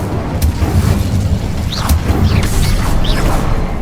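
A fire spell, Incendio, cast in the Hogwarts Legacy video game: a loud, dense burst of whooshing, roaring flame with booming impacts, sustained for several seconds.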